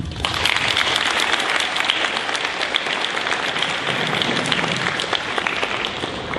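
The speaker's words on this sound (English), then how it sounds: "You can now clap." A school audience claps steadily for award recipients at an eighth-grade celebration, a dense, even wash of many hands, loud and continuous with no talk over it.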